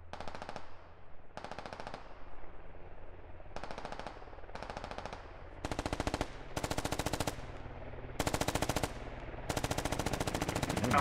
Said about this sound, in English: Taking shots at people crossing that road from a distance.